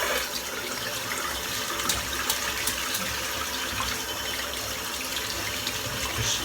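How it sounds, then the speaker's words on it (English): Tap water runs steadily over a puck of Wickham 1912 Parma Violet shaving soap as it is rinsed, a loud, continuous, close splashing with no pauses. "Just cleaning the puck up"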